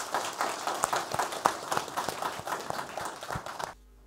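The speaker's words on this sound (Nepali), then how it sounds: "उहाँलाई स्वागत गरौँ ताली बजाएर" An audience claps steadily in a talk-series hall on energy in Nepal, welcoming the managing director of the Nepal Electricity Authority, with dense, continuous applause that stops abruptly near the end, with no voices.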